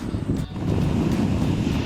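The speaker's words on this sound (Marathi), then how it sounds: "आज वारा देखील आहे बऱ्यापैकी वारा आहे आणि समुद्र देखील थोडाफार खवळलेला आहे" Strong wind roars at a beach with a rough, choppy sea, a steady loud rumble of gusts and surf buffeting the microphone without pause.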